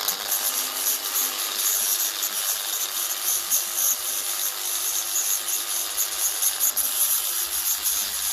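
A grinder works steadily on a washer on a 1954 Ferguson 20 diesel tractor, giving a continuous loud, high-pitched abrasive whine with slight fluctuations throughout and no talking.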